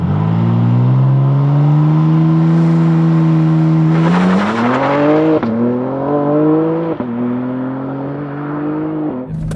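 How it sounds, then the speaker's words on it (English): A 2024 BMW M3 CS with a 3-liter twin-turbo inline six holds at launch-control revs, then launches and accelerates hard, its engine note climbing through several quick upshifts, loud and close throughout. "BMW M3 CS with launch control. Preparing."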